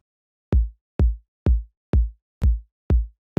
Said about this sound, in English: I choose a short and punchy kick for this track